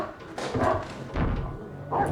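A dog barks in a scene from the 2022 horror film The Black Phone, with a few fairly quiet, rough barks and whimpers set among muffled film sound.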